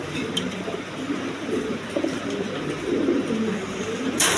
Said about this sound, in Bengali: একদম কোয়ালিটি সম্পন্ন বিউটি কবুতর।